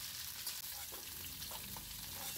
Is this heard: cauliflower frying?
yes